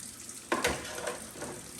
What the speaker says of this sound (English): I just run the water through it